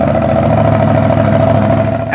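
A Suzuki GSX-8R motorcycle engine idles steadily after a fresh oil and filter change, a loud, even mechanical drone close by with no revving.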